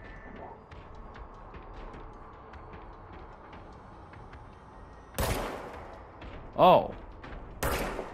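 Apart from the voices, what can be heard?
gunfire in the video game Control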